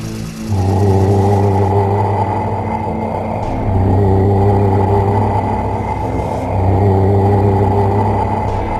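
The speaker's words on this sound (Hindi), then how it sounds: "गुल्ली ने गाड़ी की स्पीड बढ़ाई और तीनों वहां से फरार हो गए" Animated sound effect of a car speeding up: a loud, close engine drone that revs upward in three successive surges, each with rising whine and rumble, no voices over it.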